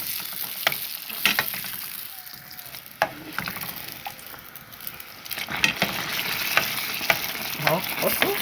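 Puffy restaurant-style flatbread dough frying in hot oil, a steady close sizzle and bubbling with soft scrapes and a few sharp clicks of a utensil against the pan.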